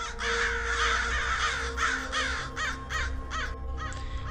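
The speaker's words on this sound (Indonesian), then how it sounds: "tiba-tiba segerombolan burung gagak hitam datang" A flock of black crows caws in quick succession, with harsh, repeated calls clustered close together that grow more clipped and rhythmic toward the end, used as a sound effect in a horror story.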